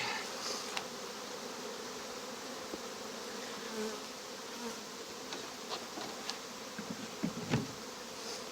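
Dense, steady buzzing of many honey bees close by, with occasional soft bumps and rustles.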